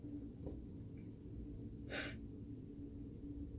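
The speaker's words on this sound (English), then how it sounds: "Why am I sniffling?" A person sniffling while upset, a few quiet nasal breaths with one sharper sniff near the middle, close and soft in an otherwise quiet room.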